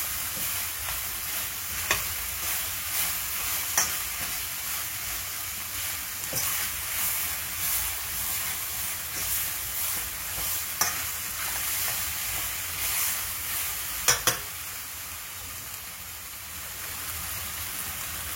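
Goat colombo with potato pieces and a splash of water sizzles steadily in a pot while a utensil stirs and scrapes the bottom, with a few sharp scraping clicks standing out. No voices.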